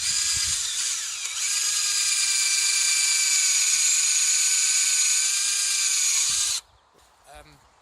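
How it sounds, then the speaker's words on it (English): A power drill whines steadily and loudly for about six seconds with a bright, sustained motor tone while working on a beetleweight combat robot part, then cuts off abruptly, leaving faint handling noise. "Drilling. Drilling."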